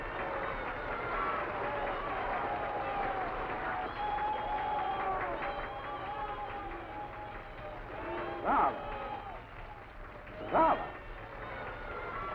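Audience applause at a concert, a steady dense patter of many hands from a 1956 recording, with music and voices running underneath and two brief louder bursts near the end.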